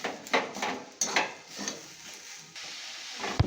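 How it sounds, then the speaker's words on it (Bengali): A spoon scrapes and knocks in a pan while date palm jaggery, made from broken-up patali, melts; soft intermittent scraping strokes, quiet and close, with a faint sizzle and no talking. "এটা খেজুরের গুড়, খেজুর পাটালি ছিল, সেটাকে আমি এখন দিয়ে এভাবে ভালো করে নাড়াচাড়া করে নেব।"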